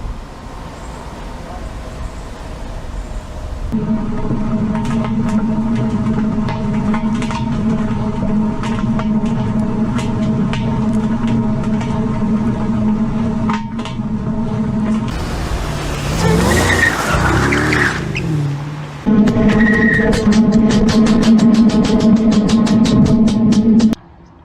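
A car drives along, heard from a camera mounted inside one of its tires: a continuous loud road rumble with a droning hum that shifts and swells partway through, then cuts off abruptly.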